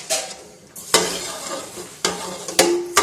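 Rice and sugar being stirred together in a cooking pot for kheer, with a few sharp scraping strokes standing out over a steady sizzling, scratchy texture, close and moderately loud.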